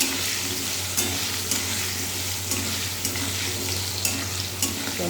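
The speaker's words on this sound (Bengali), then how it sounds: "চলো আলুগুলো ভাজা হতে থাকুক।" Potatoes frying in a pan, a loud steady sizzle with a low hum underneath and regular spatula clicks about once a second as they are stirred.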